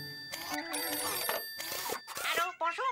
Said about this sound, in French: Lindy, téléphone.